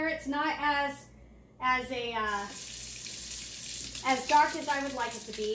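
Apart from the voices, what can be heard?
water running from a sink faucet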